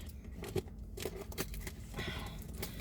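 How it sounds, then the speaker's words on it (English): Scissors snip and crunch through tightly wrapped mail packaging, making irregular close clicks and rustling scrapes of plastic or paper with no talking. "you can open it, hopefully, with your trusty pair of scissors"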